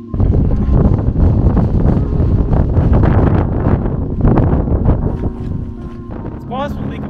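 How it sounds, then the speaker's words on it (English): Strong gusting wind on a mountain ridge at Parker Ridge in Banff National Park, loud continuous roar buffeting the microphone throughout. "I'm getting rocked by wind, some of the strongest wind I've ever experienced on a mountain"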